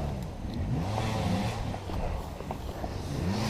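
A motocross motorcycle engine revs at a motocross grand prix, its pitch rising and falling in repeated throttle blips at moderate distance over steady background noise, without speech.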